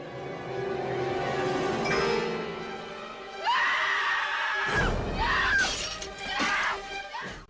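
A woman in a TV drama screams after waking to find her hair cut off, loud, shrill, sustained cries in several bursts mixed with dramatic sound effects.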